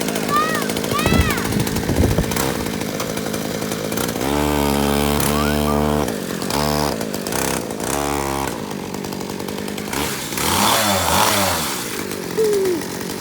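Small pocket bike engine, just repaired at its pull start, sputters to life and runs loudly with uneven revving and bursts, close by, with brief voices around it.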